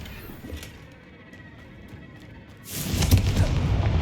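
A Confringo blasting curse explodes in Hogwarts Legacy, a sudden deep boom rising out of a quiet rumble and holding as a loud, rolling blast with crackling debris for over a second.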